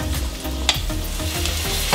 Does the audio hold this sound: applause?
no